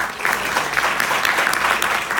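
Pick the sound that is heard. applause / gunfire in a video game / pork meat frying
applause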